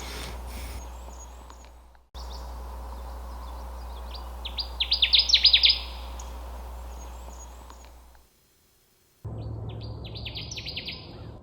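A Connecticut warbler sings in boggy tamarack woods at Sax-Zim, a single rising burst of bright, rapid chirpy notes standing out over a steady low hum of background noise.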